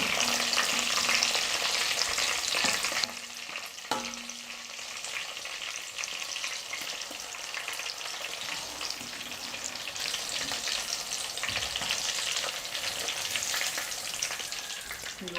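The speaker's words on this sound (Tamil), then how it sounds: "இப்போ இதே போல் மீதி இருக்கிற எல்லா மீனையும் நம்ம எண்ணெயில் போட்டு பொரிச்சு எடுத்துக்கலாம்" Pieces of fish deep-frying in hot oil give a loud, steady crackling hiss that dips briefly near the start and then carries on unbroken, with no voices.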